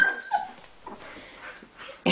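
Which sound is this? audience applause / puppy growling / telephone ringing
puppy growling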